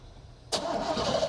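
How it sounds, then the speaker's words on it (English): A car engine cranks over at close range during a compression test, starting with a sudden whir that carries on as a steady churning hum. "We're going to crank it over with 4 puffs, 4 compression cycles."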